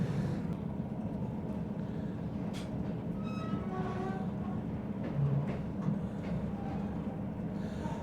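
Heritage train on the Grimsby to Barton upon Humber line pulling out across a level crossing, a faint low steady rumble heard from a distance, with a brief rising squeal or horn-like tone in the middle.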